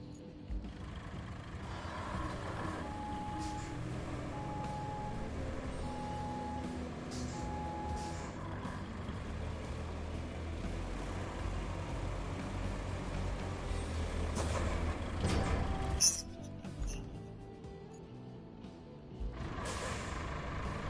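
Heavy truck engine rumbling steadily in the video game Roadcraft, with a loud clunk or crash near the end and occasional air-brake-like hisses.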